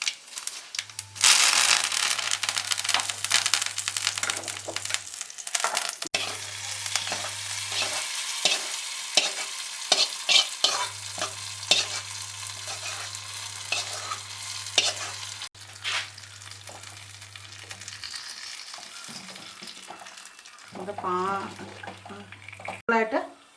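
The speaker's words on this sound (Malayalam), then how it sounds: "കടുക് ഇട്ട് പൊട്ടിയതിന് ശേഷം അതിലേക്ക് 2 കറിവേപ്പില കൂടി ഇട്ട് കൊടുക്കണം." Mustard seeds and curry leaves sputtering in hot oil, crackling and sizzling near the pan with bursts of stirring and scraping, while a voice speaks over parts of it and background music plays.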